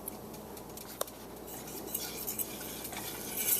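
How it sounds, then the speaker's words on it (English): A fork stirs flour into melted butter in a pan, giving soft scraping and light clinks of metal on the pan, with a faint sizzle beneath, close and moderately quiet. "blending it in with a fork."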